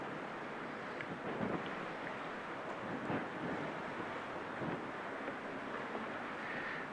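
Steady wind buffets a lighthouse gallery some 60 feet above the water on England's south coast, a broad continuous rush with gusty swells and no talk.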